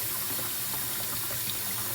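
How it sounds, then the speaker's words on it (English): Water runs from a tap in a steady, full hiss and gush, close and constant with no pauses. "I got some water running here"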